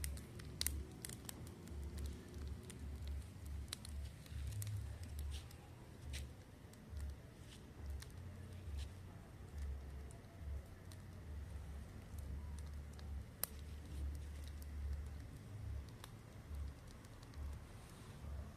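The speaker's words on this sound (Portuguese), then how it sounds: "Fica um pouquinho com a fogueira." A São João bonfire burns outdoors at a home in Campina Grande, giving a faint steady crackle with scattered sharp pops throughout, with no talking.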